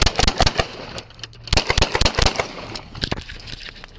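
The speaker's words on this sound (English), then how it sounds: "Shots fired." Gunfire erupts in a police shootout in Pasadena, Texas: loud, sharp shots in rapid clusters, several quick volleys followed by scattered single cracks, close to the microphone.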